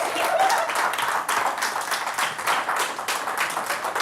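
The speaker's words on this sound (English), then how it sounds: "Let's give Chair a round of applause." An audience at a Skepticon conference session claps for a speaker, a moderately loud wash of many hands that swells at first and then gradually thins out.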